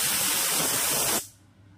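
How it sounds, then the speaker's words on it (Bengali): Pressure cooker whistle forcefully venting steam while potatoes boil in salted water, a loud continuous hiss that cuts off abruptly partway through, leaving near silence. "সিটি পড়ে গিয়েছে, 2টো সিটি পড়ার পর গ্যাসটাকে অফ করে দিয়েছি।"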